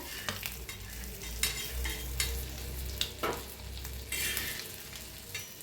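An egg fries in hot oil in a pan, giving a steady close sizzle with repeated spatula scrapes and taps against the metal throughout.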